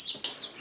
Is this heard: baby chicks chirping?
yes